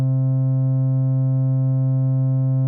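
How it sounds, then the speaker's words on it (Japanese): Steady sustained oscillator tone from a Buchla Easel V synthesizer passed through its low-pass gate, a constant harmonic-rich buzz holding at even loudness with no variation, alone. "ってことは、これが刺さってるオシレーターの音だな"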